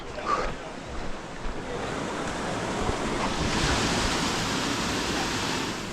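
Ocean waves wash continuously onto a beach, a steady broad roar of surf with gentle swells and some wind buffeting, and no voices.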